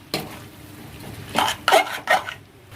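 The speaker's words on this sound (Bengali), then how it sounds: "এবার ভেজে রাখা চিকেনগুলো দেবো, দিয়ে ভালোভাবে মিক্স করতে হবে।" Fried chicken pieces stirred into a chili chicken sauce in a pan: a single clack, then a quick run of three or four scraping, clattering strokes of a spoon against the metal, close by and without speech.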